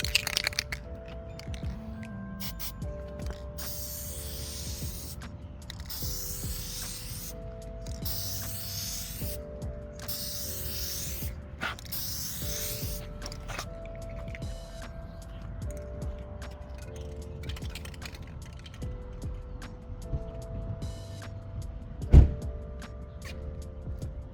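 Next Gen Headlight Solutions clear coat sprayed onto a headlight during mobile restoration: a series of bright hissing spray bursts, each about a second long, separated by short gaps, with sharp crackles at the end and no talking.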